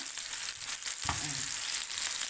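Onions frying in a pan beside tomatoes, a soft, steady sizzle at moderate distance with a faint stir partway through, for Alexandrian-style liver.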